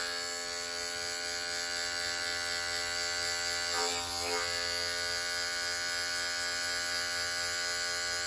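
An electric hair clipper from an at-home haircut buzzes steadily and close by, a constant mid-loud hum with a brief change in tone partway through as it cuts through hair.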